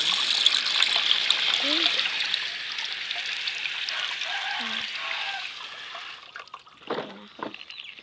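Tap water running steadily over food being washed, a continuous close gush that fades toward the end, followed by a few handling clatters, with a voice talking faintly over it.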